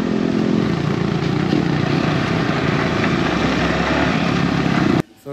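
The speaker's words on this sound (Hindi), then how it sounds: "मेरा बाइक का स्प्रॉकेट से बहुत आवाज़ आ रहा है" A motorbike whose drive sprocket is making a lot of noise, ridden on a long journey toward Haflong, gives off a loud, steady mechanical drone and whir that runs continuously and cuts off abruptly just before the end.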